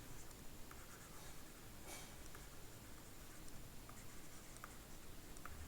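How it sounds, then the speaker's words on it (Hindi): Quick handwriting during a Class 9 maths lesson on rational numbers: faint, rapid scratchy strokes and light ticks over a steady hiss of room noise, with no talking. "मैं जल्दी जल्दी में लिख रहा हूँ"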